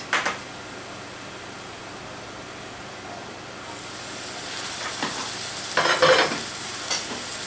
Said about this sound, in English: This has sizzled up very nicely.